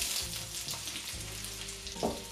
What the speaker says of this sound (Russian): Обжарим лучок немного.